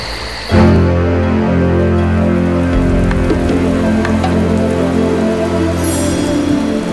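Steady rain patters across a surface from start to finish, a dense even hiss with a low rumble underneath and no voices.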